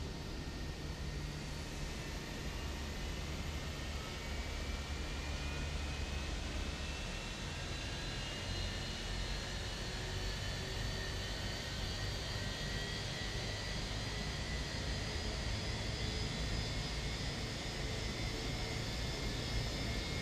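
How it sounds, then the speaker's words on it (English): An Airbus A319 jet engine spools up in a flight simulator, a constant loud roar with a rising whine that climbs steadily as the engine starts and settles into running. "Engine 2 is started and running good. We'll start engine number 1."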